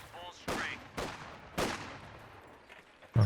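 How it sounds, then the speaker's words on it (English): Rifle grenade and small-arms blasts in a Company of Heroes 2 2v2 match: several sharp, loud bursts about half a second apart, with a final crack at the end, under faint commentary. "Big rifle nade."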